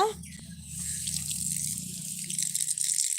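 Tap water runs as a child washes hands, a steady close splashing stream with brief clatter at the start and a louder gush toward the end, no speech over it.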